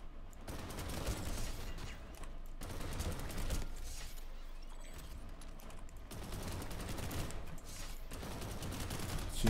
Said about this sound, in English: Oh, it's a shotgun.